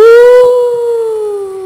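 A single drawn-out howl in a voice, loud and close, holding a steady pitch that sags slightly toward the end, imitating a dog during a readers' theatre performance.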